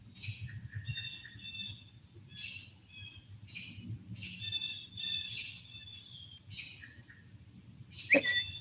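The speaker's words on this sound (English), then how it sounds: "that bird's pitch is hurting my ears" High-pitched bird calls repeat in short bursts over a low rumbling background, with a sharper chirp near the end.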